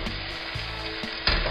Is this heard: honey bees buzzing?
no